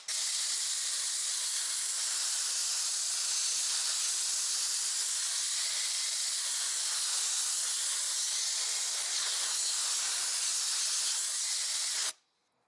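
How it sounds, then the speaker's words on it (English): Compressed air blowing a steady, loud hiss over the front splitter of a Shelby GT350R to dry it, continuing for about twelve seconds before cutting off. "So I'm going to grab my compressed air, we're going to blow dry this"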